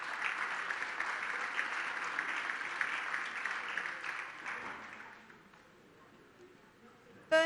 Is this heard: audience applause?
yes